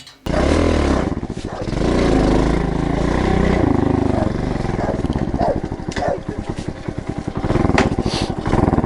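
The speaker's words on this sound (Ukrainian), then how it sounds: "Показав чоловік наостанок, як працює на бензині із пластику його мотоцикл." A motorcycle engine running on gasoline made from plastic roars loudly and close for the whole stretch, with a steady rough idle and revs that rise and fall.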